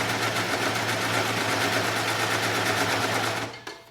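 A serger sews a chain stitch with a fast, steady mechanical whir, close and constant for several seconds before stopping abruptly near the end, with no talking.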